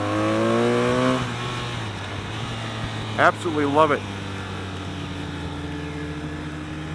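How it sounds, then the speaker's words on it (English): A 2016 BMW R 1200 RT motorcycle's steady engine drone with harmonic whine hums under the ride at speed while someone speaks briefly over wind-buffeted noise. "Great sound coming out of the bike."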